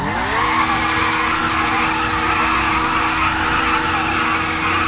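Loud, steady engine drone with a rising whine and tire skid noise, continuous throughout with no pauses, from a Nagasaki Shotaro car in GTA V Online.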